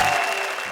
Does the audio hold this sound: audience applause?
yes